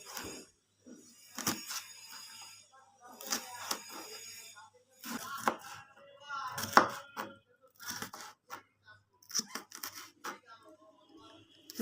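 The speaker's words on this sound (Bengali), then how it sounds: "একইভাবে লাল ক্যাপসিকামটা কেটে নিচ্ছি" A knife chops a red bell pepper on a board in a home kitchen, with clusters of quiet, close taps separated by short pauses, fairly soft overall.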